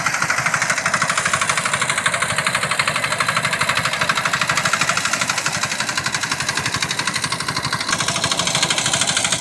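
A paddy threshing machine runs in a rain-soaked field, its engine throbbing loud and close in a fast, even pulsing rhythm with a rattling mechanical clatter that holds steady throughout.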